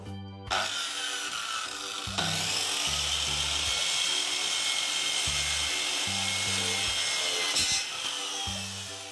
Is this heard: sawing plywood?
yes